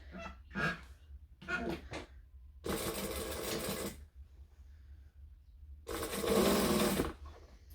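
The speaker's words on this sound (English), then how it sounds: "then I can just sew it shut" A sewing machine stitching a bag shut runs in short bursts, two quick stutters and then two longer steady runs separated by quiet pauses, close and alone.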